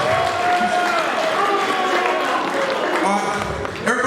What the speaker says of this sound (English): let's give me a hand clap,